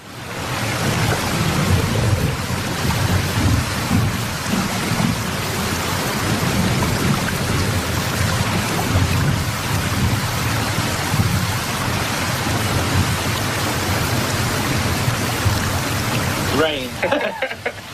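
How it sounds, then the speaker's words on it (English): Heavy rain pours down without letup for a long stretch, a loud dense hiss of drops with low rumbling underneath that may be thunder, and a brief voice near the end. "So it started raining on us kind of hard"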